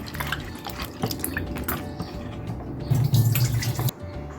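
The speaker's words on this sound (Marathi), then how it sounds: "आता मी हे व्यवस्थित धुवून घेते" Water runs and splashes steadily while Bombay duck fish is rinsed and handled, with a louder gush of pouring water near the end.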